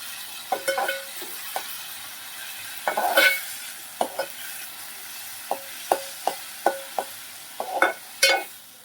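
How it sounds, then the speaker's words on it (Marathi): Onions sauté in a hot frying pan while a spoon stirs them, giving soft sizzling under a series of sharp scraping and clinking strokes that come at irregular intervals, close and moderately loud. "याला चांगलं आपण परतून घेऊया. आधी व्यवस्थित लाल करून घेऊया."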